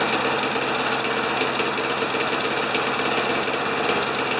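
Craftsman 7.75 HP self-propelled lawn mower engine with its idle turned fully up and an unresponsive governor, running at a steady, loud, buzzing drone with a fast rattling pulse and no pauses.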